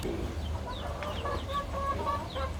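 Laying hens kept at home cluck and chatter in short, overlapping calls over a steady low background hum, fairly close by.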